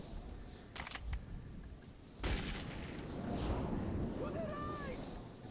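A few sharp gunshots in the video game Metro, two quick close cracks followed by a louder blast, then a rumbling low tail with faint chirping tones, under quiet background.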